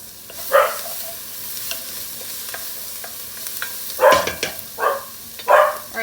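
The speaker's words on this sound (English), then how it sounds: "I'm actually going to end up adding a little bit of white wine to deglaze this." White wine hits a hot pan of sizzling jalapeno and garlic for white chicken chili: a low, constant sizzle broken by several short, loud hissing bursts near the start and again in quick succession later.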